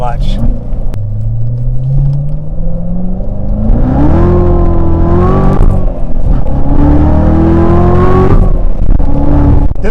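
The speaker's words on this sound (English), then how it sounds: "Doesn't have the nicest engine tone to it, but it's definitely very aggressive." A manual Corvette C7 Z06 engine accelerating hard, its low rumbling exhaust note climbing steadily in pitch through the gears, loud and close from inside the car, with a brief dip between pulls as it shifts.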